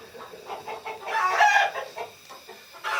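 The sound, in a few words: chickens clucking on a farm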